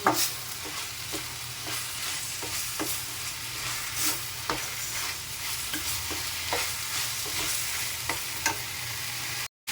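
Green okra (bendi) fries in a pan on a home stove, a steady close sizzle broken by repeated scraping stirs of the spatula at a fairly regular rhythm, with no voices.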